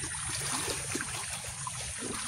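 Floodwater trickles steadily along a road in a continuous, low, close wash with faint gurgles throughout.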